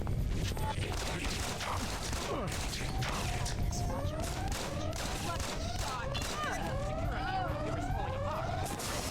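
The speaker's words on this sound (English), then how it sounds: "Who the fuck is shooting?" Gunfire in the video game Deus Ex: Invisible War, continuous rapid shots and clatter under a busy, noisy game mix with rising whining tones and a dense background.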